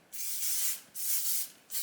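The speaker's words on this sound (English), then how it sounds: "I then use the GHD Final Fix hairspray and just gently" GHD Final Fix hairspray is misted over curled long hair in three hissing bursts, each lasting under a second with brief gaps between them. The spray is close and fairly soft, with no talking.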